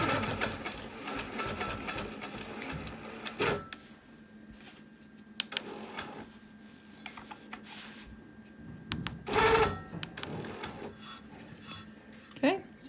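Sewing machine stitching down a wholecloth quilt a quarter inch from the edge, a steady close mechanical hum and rapid needle patter broken by brief pauses and short bursts.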